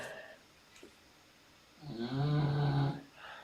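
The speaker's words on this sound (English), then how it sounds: "sorry, my dog's snoring now." A dog lying under a desk snores: a quiet breath or two, then one long, low, rumbling snore near the microphone, with no talking.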